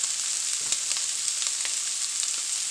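Meatballs frying in a pan for a meatball sub, giving a steady, close, continuous sizzle with faint crackles and no speech.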